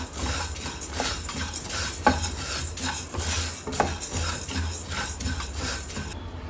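Lentils for chutney are roasted in a pan, with a steady dry scraping and rustling of stirring and a couple of sharper utensil clicks against the metal, continuous and close with no talking.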